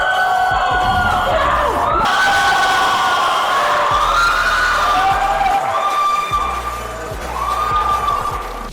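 A crowd cheers loudly and continuously at a speedsoft airsoft finals match in Taiwan, with high, wavering shouts and whoops that rise and fall, dipping slightly near the end.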